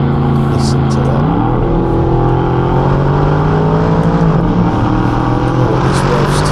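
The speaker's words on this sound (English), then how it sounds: "Let's get some of those crackles on the downshift." An Aston Martin DBX SUV engine drones loud and close, its pitch dropping and climbing through gear changes, with sharp exhaust pops crackling on the downshift.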